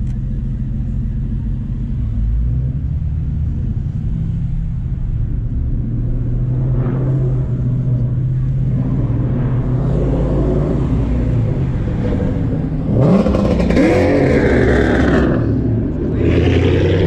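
A Ford Mustang with a loud aftermarket exhaust rumbles deep and steady at close range, the engine swelling into a brief rev near the end.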